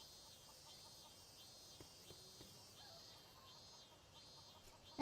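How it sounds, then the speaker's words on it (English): Crickets from the PS3 game Boku no Natsuyasumi 3 chirp faintly in a steady repeating rhythm, soft pulsed trills over a quiet summer-night ambience with a few low tonal sounds. "I can hear the crickets outside my window."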